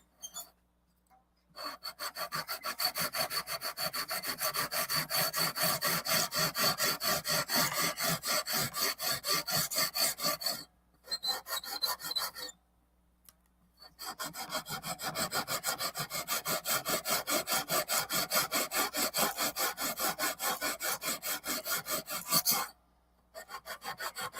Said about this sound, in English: we'll check it out with the fret file